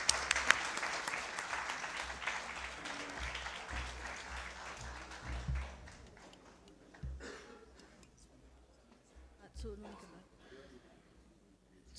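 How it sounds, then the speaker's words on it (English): Audience applause greets the gold-medal winner of a medical poster competition, strongest at the start and gradually thinning into scattered claps and room murmur over about twelve seconds. "Please give her a big hand applause"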